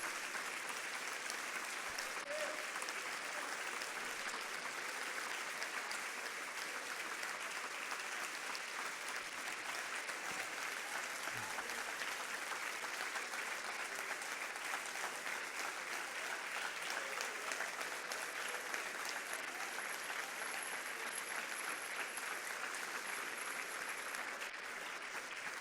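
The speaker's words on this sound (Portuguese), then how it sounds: "Aplaudam mesmo o Senhor e celebre o seu nome." A church congregation applauding steadily throughout, a dense, even wash of clapping that holds at a constant level from start to finish with no voices standing out.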